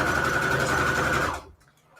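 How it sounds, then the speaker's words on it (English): Domestic sewing machine running a straight stitch on default settings through shabby chic fabric on receipt paper, a steady close mechanical whirr that stops abruptly near the end, leaving quiet. "I have my sewing machine set to stitch to a straight stitch with default settings."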